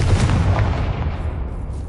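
Spell blasts and explosions in the Hogwarts Legacy video game, a dense continuous run of booming impacts with heavy low rumble, loud and sustained for the full two seconds with no voices.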